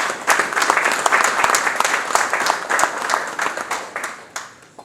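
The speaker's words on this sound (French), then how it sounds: "Je vous prie encore une fois de lui réserver les applaudissements de reconnaissance." Audience applause at an opening ceremony for a UN human rights centre's 20th anniversary, a large crowd clapping in a sustained, dense roll of sharp claps that gradually thins and fades toward the end.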